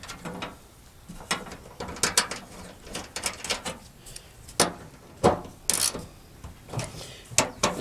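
A ratchet tightens the tailgate handle bolts on a 2010 Toyota Tundra, giving close, repeated clicking strokes in an uneven rhythm, with small rubbing and metal taps between the pulls.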